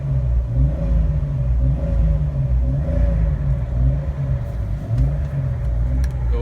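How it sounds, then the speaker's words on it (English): A car engine idles in park in a steady low rumble, rising and falling with a few revs, close by and loud throughout. "put this thing in park and give you a couple revs"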